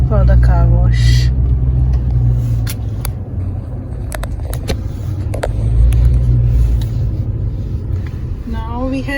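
A truck rolls slowly into a car wash in the USA, its engine rumbling low and steady throughout, with clicks, rattles and a brief whine over the drone, and people talking in the background.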